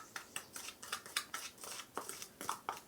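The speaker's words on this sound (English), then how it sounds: "Then you mix them all together. Make a paste of it." A spoon scrapes and clinks in a small bowl while ingredients are mixed into a bitter paste for a toothache remedy, giving quick, regular close taps about four or five per second, fairly faint.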